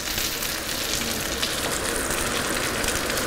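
Chopped carrots and red onions browning in a pan for a pork roast give off a loud, constant sizzle with faint stirring, close up, steady throughout and with no talk.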